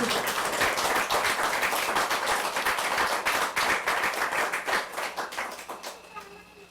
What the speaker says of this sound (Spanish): Denle un fuerte aplauso al Señor en esta noche.